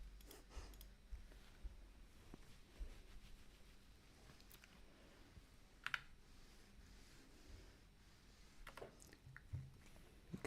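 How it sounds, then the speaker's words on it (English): Typing on a computer keyboard in a room during a live sewing session: sparse, faint key clicks over a low hum, with a few sharper taps. "I'm just trying to use your keyboard."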